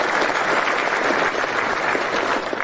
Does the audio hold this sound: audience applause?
yes